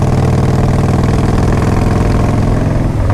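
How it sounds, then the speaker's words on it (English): A 1994 Harley-Davidson Fat Boy motorcycle engine rumbles steadily at cruising speed, a loud, deep, close V-twin throb that stays even throughout with no talk over it. "It's got that great Harley sound."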